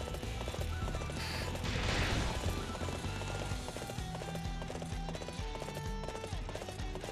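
A horse gallops in Dynasty Warriors 8 Xtreme Legends, with rapid hoofbeats and a whinny, set against battle clamour and game music.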